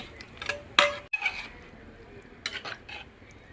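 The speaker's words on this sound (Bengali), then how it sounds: "কষা গোশটাও এর সঙ্গে ঢেলে দিচ্ছি।" Braised beef is poured into a pot of khichuri with coconut milk, giving a brief loud clatter and scrape against the pot followed by softer stirring and clinks.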